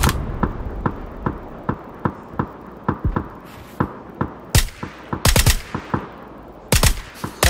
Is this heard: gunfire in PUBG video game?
yes